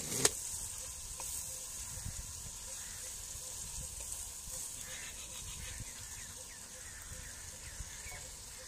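Chicken for a Shinwari-style karahi frying with spices in a village kitchen, a steady moderate sizzle with light stirring scrapes running throughout and no voices.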